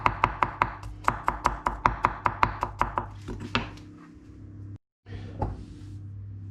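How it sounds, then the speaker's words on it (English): A knife chops garlic cloves on a board in a quick, steady run of close, crisp strikes for about three seconds, then a few scattered knocks follow. "Okay, the garlic is all nicely chopped up."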